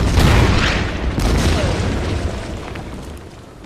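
Artillery bombardment in the strategy game Order of Battle: Winter War, a loud deep boom followed by rumbling explosions that slowly fade.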